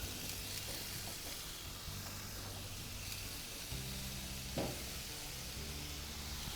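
Pork back ribs coated in guajillo and ancho sauce sizzle steadily on a hot grill, a continuous close hiss and crackle with faint low hum beneath and one brief louder pop, no voices.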